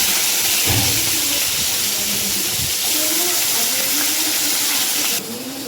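Chopped onion and cumin seeds sizzle in a generous amount of hot oil for a dal tempering, giving a loud, steady close hiss that drops slightly near the end.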